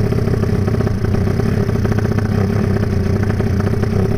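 A Honda Tiger Pangeran 300cc motorcycle engine runs loud and close, a steady rough throbbing roar with rapid clattering pulses and no clear rise or fall in revs.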